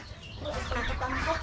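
Chickens cluck in a short burst at a livestock farm that also keeps pigs, a few close, quick clucks over a busy background.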